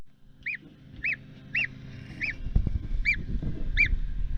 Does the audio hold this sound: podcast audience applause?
no